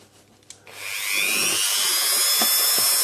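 A power drill with a 0.5 mm bit boring through a small metal shaft: a brief tap, then a steady high whine that holds loud and close for the rest of the moment, with no talk.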